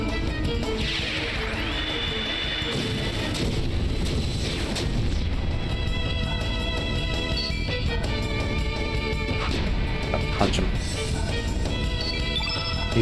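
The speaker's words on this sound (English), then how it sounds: "I can use a magma bomb" A magma bomb attack in the remastered Chrono Cross fires as a string of crashing, booming impacts with ringing tonal effects and a rising whistle, sustained for several seconds over game music, with no talk.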